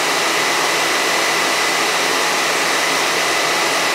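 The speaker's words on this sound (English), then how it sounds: "So I'm gonna see y'all if I sit under the dryer." A hood hair dryer runs close and loud, a steady, unbroken rush of blown air with a broad hiss and no change in pitch or level throughout.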